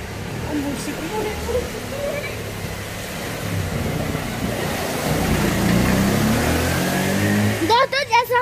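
A motorcycle pulls away down a wet residential lane after rain, its engine noise rising and filling the clip before a voice begins speaking at the very end.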